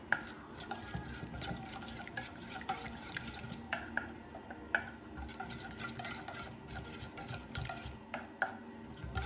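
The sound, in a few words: stirring a lime and soy sauce mixture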